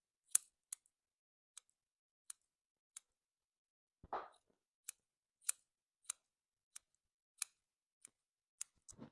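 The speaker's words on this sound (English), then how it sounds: "with my scissors I am going to chop off some little bits." Scissors snipping small bits of green felting wool, about a dozen crisp, isolated clicks at irregular intervals, close and quiet in a silent room, with one brief soft rustle partway through.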